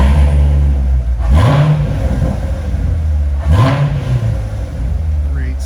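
A 2019 Corvette Grand Sport coupe with a 7-speed manual idles close by with a deep steady rumble, blipped twice into brief rising revs that fall back to idle.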